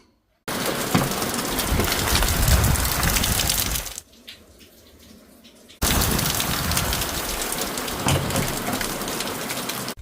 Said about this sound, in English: once the downpour has stopped